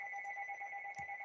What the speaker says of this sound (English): Please pardon my phone.